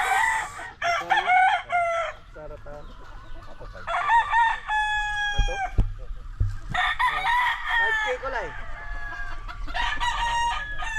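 Gamefowl breeding stock, including Mexican Black Henny roosters, crowing repeatedly on a farm: several loud, close cock-a-doodle-doo calls one after another with brief clucking between.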